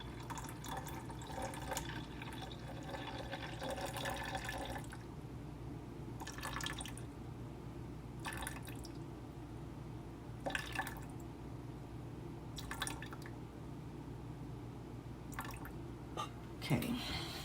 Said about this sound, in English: I put in 113 grams of water.